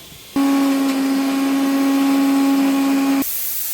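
A pressure cooker's second whistle while cooking pongal, a steady, loud whistling hiss with a strong tonal whine that rises suddenly and holds for about three seconds before stopping.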